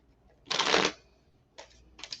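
A deck of tarot cards is shuffled up close: one loud riffling burst, then two shorter, softer flutters after a pause.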